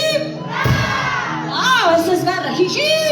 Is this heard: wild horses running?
no